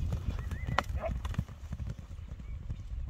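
An Anglo-Arab horse's hooves clip-clop in a quick rhythm on the ground, close and clear, with a brief voice in the background.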